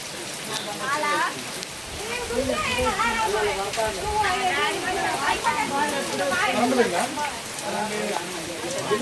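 Rain falls steadily outdoors as someone walks through it, a soft continuous patter beneath several people talking throughout.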